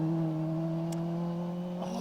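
A small Sunbeam rally car at the Carlisle Stages rally, its engine holding a steady droning note at a distance, with the pitch shifting slightly as the car moves past.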